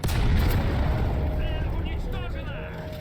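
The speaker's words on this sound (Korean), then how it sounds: "일곱 번째에서 연료폭발이 떴네요." A fuel explosion on a Leclerc tank in the video game War Thunder, a loud deep boom right at the start that rumbles and fades, with people talking over it.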